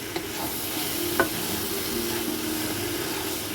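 Vegetable pasta is stirred and tossed in an oiled pan, a steady close sizzle with scraping spoon strokes and one brief clink.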